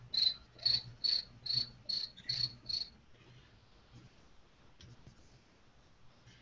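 A person imitates a cricket with seven quick, evenly spaced high chirps in a row, followed by quiet room tone with faint rustling.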